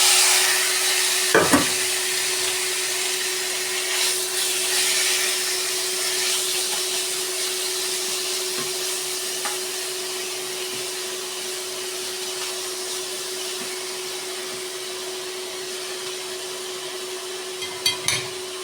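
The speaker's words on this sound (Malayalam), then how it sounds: "എണ്ണ ഒഴിച്ചിട്ട് ചിക്കൻ ഇട്ട് കൊടുക്കാം." Pieces of chicken half-frying in oil in a pan, a steady hissing sizzle that runs on continuously, with a couple of brief knocks and clatters from the pan.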